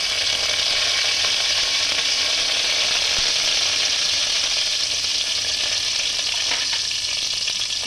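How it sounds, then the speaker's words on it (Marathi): Cumin seeds and curry leaves sizzle hard in hot oil in a pan, a loud, steady frying crackle that runs unbroken throughout with faint stirring scrapes and no voices. "हे पहा मी पॅनमध्ये तेल घालून घेतलं आहे आता मी जिरंही घालून घेणार आहे त्यानंतर कढीपत्ता घालून घेणार आहे"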